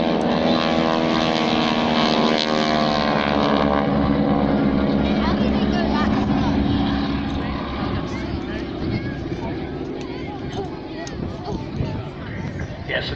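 Breitling Wingwalkers propeller aircraft engines roar at full power in a loud, sustained drone with rising harmonic tones, fading slightly as the planes pass, and a commentator talks over it at an air display.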